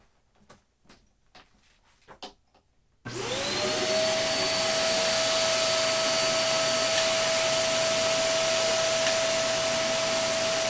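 A Shark vacuum cleaner starts after a few quiet handling clicks and spins up to a loud, steady whine with a rising tone, then runs continuously up close with no speech.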